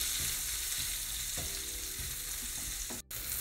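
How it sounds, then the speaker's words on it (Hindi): Onion, garlic, cumin and nigella seeds frying in a pan for masala paneer: a steady close sizzle with a few soft stirring knocks underneath, and a brief dropout near the end. "सो प्याज को ज़्यादा देर तक हमें भूनना नहीं है, ट्रांसल्यूसेंट हो जाए बस ज़रा सा"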